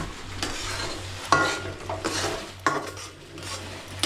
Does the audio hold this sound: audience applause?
no